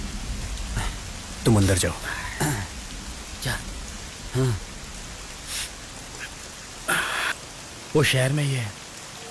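Steady rain falls in a continuous hiss beneath a dubbed Hindi drama scene, while several people speak over it in short exchanges.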